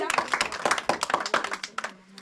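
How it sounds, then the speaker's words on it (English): A group of people clapping hands in quick irregular bursts, close and fairly loud, with voices talking over the applause. "Let us clap for our mother."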